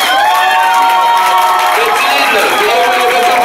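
Wedding guests break into a loud, sustained burst of cheering and crowd noise at a civil ceremony, with excited voices and shouts blending throughout.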